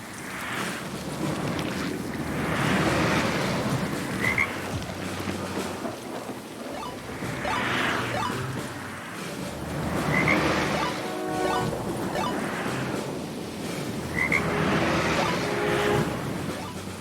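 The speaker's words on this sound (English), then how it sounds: "a green frog will jump its way towards the screen" Frog croaking in the video game Darwin's Paradox, set near a busy road by a factory yard: repeated croaks in rhythmic bursts over a windy, whooshing ambient bed, fairly loud and close.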